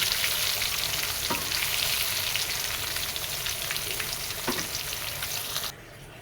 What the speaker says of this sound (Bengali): প্রায় মাছটা ভাজা হয়ে এসছে দেখতে পাচ্ছেন কি সুন্দর লাগছে দেখতে সরিষার তেল দিয়ে ভাজা